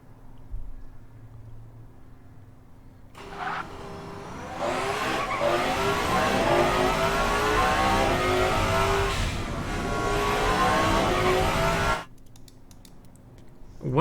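A 2018 Athena Hermes laps Laguna Seca in the Automation car game, its engine holding a loud, sustained drone that rises and shifts through gears for about nine seconds. Quieter background sound comes before and after it.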